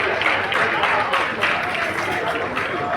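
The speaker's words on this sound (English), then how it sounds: "So we have to give him an applause for that." Dense audience applause fills a hall at an 80th birthday celebration, steady loud clapping from many hands sustained throughout without any voices.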